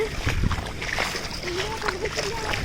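Feet splash and slosh through shallow rainwater flooding a yard in Kerala after heavy rain, with continuous watery churning while people talk nearby.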